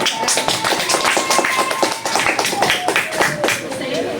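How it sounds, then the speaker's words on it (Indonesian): Workshop attendees clap for a speaker after a talk at a pre-marriage education session, giving steady, close, crisp applause for about four seconds with some talk mixed in. "Beri tepuk tangan dulu."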